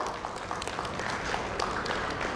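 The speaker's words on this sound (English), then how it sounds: "Please welcome with a huge round of applause." An audience at an insurance industry summit applauds as a panelist takes the stage, a dense, steady wash of clapping from many hands throughout the short stretch.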